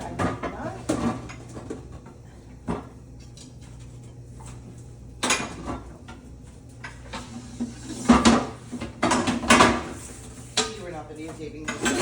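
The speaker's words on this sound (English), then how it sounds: "I'm gonna get my large pan out" A large metal pan is pulled out and handled in a kitchen, with clattering knocks, scrapes and cupboard-like thuds at close range, loudest near the end, over a faint background hum.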